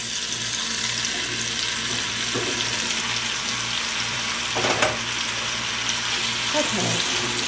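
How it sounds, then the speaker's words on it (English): Apples dropped into melted butter in a pan set up a steady, close sizzle and frying crackle, with a few brief stirring or clattering bursts, and no talking over it. "I have melted butter here, and I'm going to add the fruit."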